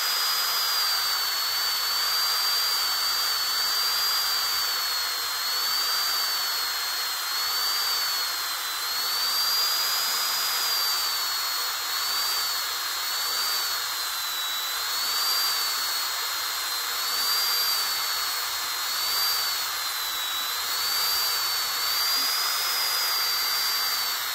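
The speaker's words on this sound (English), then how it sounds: "I'm gonna start up my Dremel," Dremel rotary tool sanding the knee joint of a figure, a steady high whine with a slightly wavering pitch that runs close and continuous throughout, with no talk over it.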